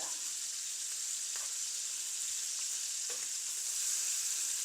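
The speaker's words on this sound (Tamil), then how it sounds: "இப்போ இறால் கொஞ்சம் பொறிஞ்சிடுது" Prawns fry in a pan with a steady, bright hiss of sizzling oil and a few faint stirring clicks, fairly soft and with nobody talking.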